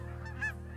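A single goose honk rings out briefly over a low steady hum, fairly faint and distant, during a waterfowl hunt.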